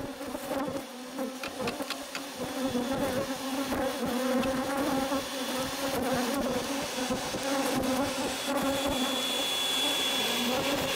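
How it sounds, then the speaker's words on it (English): Dense, steady buzzing of many bees close by from a large hive inside a roof, a continuous droning swarm with occasional sharper clicks and no voices. "we're going to be able to kill the bees."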